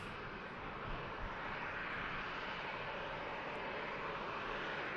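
An airliner on final approach into Manchester Airport gives a constant distant engine rumble and hiss, steady and fairly faint, with no talk.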